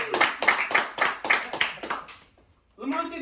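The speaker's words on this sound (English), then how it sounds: "Clap it for Adam for coming up in this world." On a comedy game show, a small audience claps in a loose, uneven patter for a contestant, loud and close, fading out before a voice starts talking at the end.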